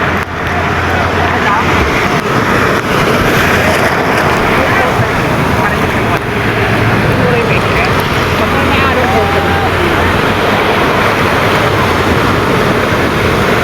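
Ocean waves wash continuously onto a crowded beach in La Union, a steady loud roar mixed with wind, while people talk and shout over it.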